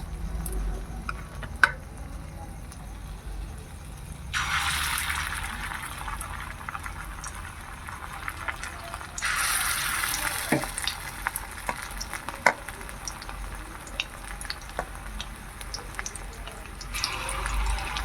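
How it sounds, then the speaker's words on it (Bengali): Cauliflower pakoras dropped into hot oil sizzle and bubble steadily, with louder bursts of crackling frying as each batch goes in and small clinks and stirring noises throughout, no talking. "এবার আমি তেলের মধ্যে ছেড়ে দেব তো এইভাবে আমি সবকটি তেলের মধ্যে ছেড়ে দেব"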